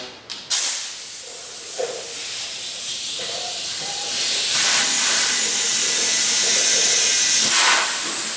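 An air pump inflates a tire seating on its rim, giving a loud, continuous hiss that builds slightly and then holds steady, with a few brief clicks at the start.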